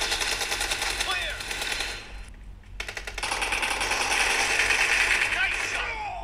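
Rapid automatic gunfire in the PUBG video game on the Sanhok map, a dense rattling burst that breaks briefly and then resumes, with game sounds and voices underneath.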